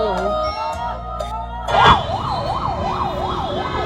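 An ambulance siren wails in a steady rising-and-falling pattern while the ambulance sits stuck in morning traffic, fairly close and loud over a continuous low rumble of engines.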